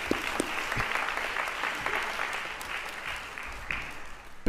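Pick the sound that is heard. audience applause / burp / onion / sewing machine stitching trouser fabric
audience applause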